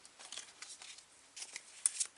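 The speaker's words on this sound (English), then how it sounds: "So I'm going to shuffle the rest of the cards" A tarot card deck is shuffled by hand in soft, quick riffles and slides, faint and close, with a few sharper flicks near the end.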